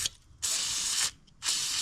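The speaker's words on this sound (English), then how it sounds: "you just gotta spray some WD-40" Spray can of WD-40 hissing in two sharp bursts onto a car dashboard air pump diaphragm, each burst lasting about half a second with a short pause between.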